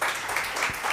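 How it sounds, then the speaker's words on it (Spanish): A seated audience applauds Javier and a doctor at a national graduates' meeting on higher education, with continuous dense clapping for the whole second. "Un aplauso finalmente para Javier y para el doctor."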